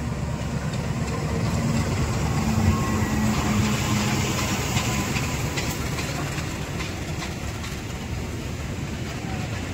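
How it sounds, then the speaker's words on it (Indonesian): The Sancaka passenger train rushes past at about 120 km/h, a loud sustained rumble of wheels and engine with rattling, rhythmic clatter from the cars, steady throughout at close range. "Oke, kereta api Sancaka udah terlihat dari arah sebelah sana. Mari kita rekam dulu kereta api Sancaka."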